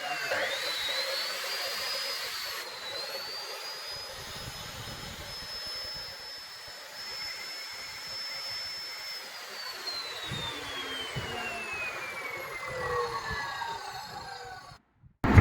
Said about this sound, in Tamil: இந்த fame 14 inch cut off machine வந்து பார்த்தீங்கன்னா